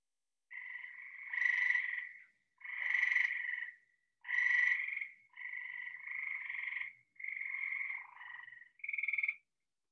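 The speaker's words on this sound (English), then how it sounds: "the gray tree frog has loud, shorter trills" Loud, short trills from a gray tree frog come in a run of about seven bursts, evenly spaced and close, over near silence.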